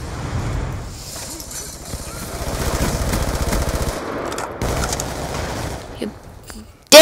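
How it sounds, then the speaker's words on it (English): Sustained automatic gunfire in Black Ops 2 rattles in a dense, fast stream for a few seconds, then breaks into shorter bursts against busy game sound. "Shot so many bullets into you, but you don't die."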